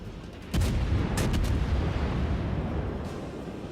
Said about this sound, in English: Shoot the back guns, swing the front ones around as well.